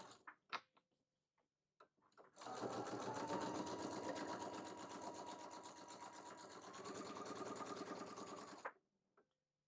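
A sewing machine runs steadily for about six seconds, stitching a seam on a quilt border block, with faint taps and clicks before and after in a quiet room.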